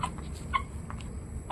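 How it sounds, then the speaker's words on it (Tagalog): Fowl clucking in short, soft bursts at close range, a few brief calls scattered over a quiet, low background. "Yan ang ibon natin."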